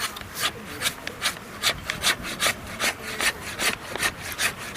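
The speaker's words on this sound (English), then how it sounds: "We're scraping the hair and the epidermal layer off." A hide being scraped to strip the hair and epidermal layer at a frontier-style festival demonstration. The rhythmic rasping strokes repeat steadily and loudly up close, with no talking.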